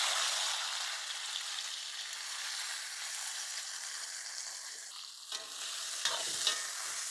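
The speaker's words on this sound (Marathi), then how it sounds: "बारीक कट केलेले टमाटर आणि कांदे घालून घेऊ" Chopped tomatoes and onions frying in hot oil in a kadhai, a steady close sizzle with brief stirring scrapes near the end, no talking.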